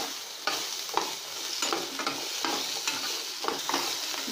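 Onions sautéing in a pan for Kerala fish curry, a soft continuous sizzle with regular scraping stirs every half second or so, close but fairly quiet, no speech.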